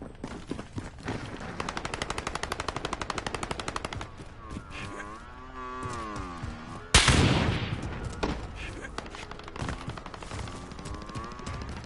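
Rapid automatic gunfire and single shots crack through a shooter video game match, dense bursts early, then a loud blast near the middle followed by scattered shots, with in-game effects and tonal sounds between.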